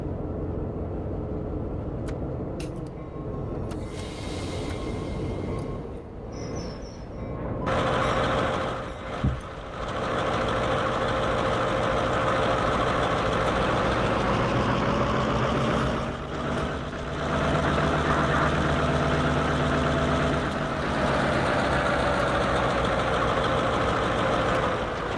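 A simulated EMD 645 diesel locomotive idling with a different exhaust in the Run 8 train game. It gives a steady, continuous low rumble with brief air-release hisses and small shifts, and no voices.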